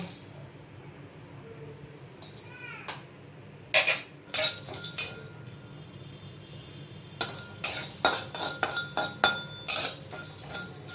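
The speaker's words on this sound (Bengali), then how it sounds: "এগুলো সমস্ত আমি এই কড়াইয়ে দিয়ে একটু নাড়াচাড়া করে ড্রাই রোস্ট করব" Whole cardamom pods and small cinnamon pieces are dry roasted and stirred in a wok, giving irregular bursts of metallic clinks and scraping rattles against a steady low background hum.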